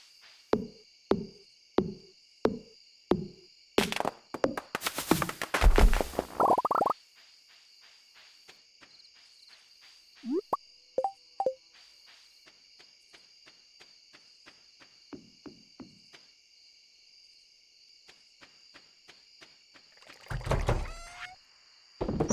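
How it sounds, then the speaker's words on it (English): Nighttime crickets chirp in Stardew Valley, steady, rhythmic pulses repeating in the background, with occasional in-game clicks, plops and brief bursts of activity over the quiet ambience. "instead of just the nighttime cricket noises"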